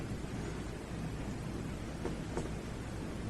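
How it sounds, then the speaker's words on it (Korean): Steady rain falls throughout, with a couple of brief brighter crackles near the end that may be distant thunder in a continuous wash of noise. "지금 이렇게 빗소리가 알아지듯이"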